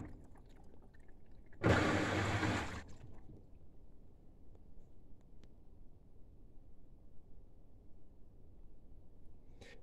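Water rushes into a washing machine's detergent drawer in one loud, hissing burst of about a second, then fades to a low, steady background rumble.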